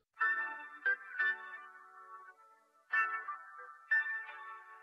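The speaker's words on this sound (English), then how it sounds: "The keys then is just from the sample, the original song as well" A keys sample taken from an original song, pitched down and AI stem-separated, plays as a few sustained chords with soft attacks and a slightly warbly digital texture, separated by short gaps.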